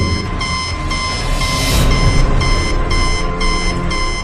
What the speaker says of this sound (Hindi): उसके अंदर एक लाल बत्ती जल रही थी और वो जोर जोर से बीप कर रही थी